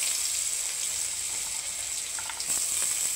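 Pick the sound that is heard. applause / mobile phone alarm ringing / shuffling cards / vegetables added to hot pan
vegetables added to hot pan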